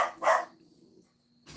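Indoor dogs let out a couple of sharp, close barks with a short gap between them, over a faint steady hum.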